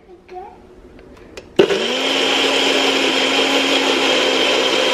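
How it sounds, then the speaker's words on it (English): A NutriBullet blender blending frozen fruit into a smoothie starts with a sudden loud roar and keeps a steady, high-pitched motor whine at close range, after a few light clicks and taps. "Okay, so it's just in my NutriBullet."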